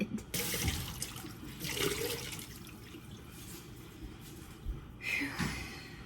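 Hot tap water runs steadily into a sink for washing canning jars before water bath canning sliced peaches, a continuous broadband rush with a few splashy changes in flow, close and moderately loud.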